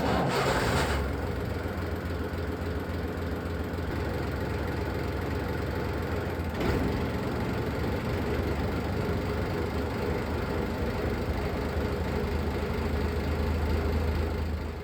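Diesel motor of a small ship running in gear with a Tesla drive acting as generator, a steady low mechanical hum and rumble held at an even level, with a faint knock partway through; no talk.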